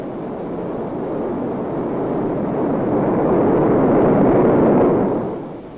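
A rocket sled speeds past during a test run for the X-15 pressure suit, a loud, broad roar that swells over several seconds and then drops off, with no voices.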